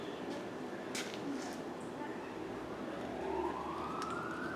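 A distant emergency vehicle siren rising faintly under the near clatter and voices of a garage where a Dodge Dakota's rear brakes are being worked on, the wail growing slightly toward the end.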